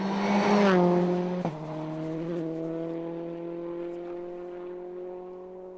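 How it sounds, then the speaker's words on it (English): A rally car at the Galway International Rally runs wide with understeer, its engine note dropping as the tyres squeal briefly, then fading into a steady, moderately distant drone. "Johnny Greer, quite a bit of understeer there."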